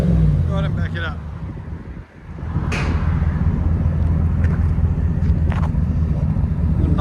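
A 2022 Chevy Silverado 2500 HD with a 6.6L V8 and a Flowmaster Super 44 exhaust idles close by with a steady deep rumble, while someone talks briefly at the start over the engine.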